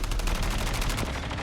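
Rapid automatic gunfire in the Call of Duty video game, a dense continuous burst of shots running the whole moment at steady loudness with no talk.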